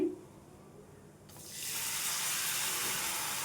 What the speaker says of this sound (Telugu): దీనికైతే కప్పున్నర వరకు వాటర్ వేసేసుకోవాలి